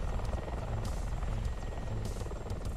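A Mi-24P helicopter in the DCS flight simulator hums and whirs steadily with dense rotor and engine drone, loud and continuous throughout with faint high whine above.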